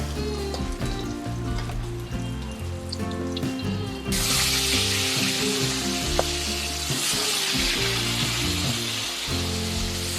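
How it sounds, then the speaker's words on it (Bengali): Katla fish pieces fry in hot oil with a loud, steady sizzle that grows denser and harsher midway, as if more fish went into the pan, with occasional light crackles and no talking. "তো চলো এখন মাছগুলোকে ভেজে নিই"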